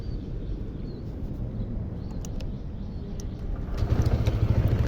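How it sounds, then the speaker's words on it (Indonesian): A motorcycle engine idles with a low, steady rumble that grows louder and rougher near the end as it picks up, with faint outdoor ambience around it. "Ini kita lihat dari suaranya, mesinnya masih bagus."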